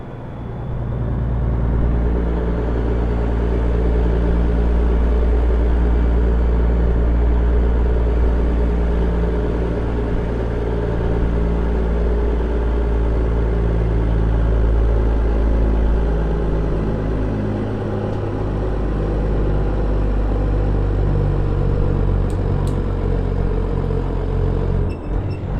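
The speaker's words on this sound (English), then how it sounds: "Old engines showing how little power she does have." Inside the cab of an old, worn-out Peterbilt 359 truck on a curvy road, the engine drones steadily and loudly at cruising speed, with a continuous low rumble throughout.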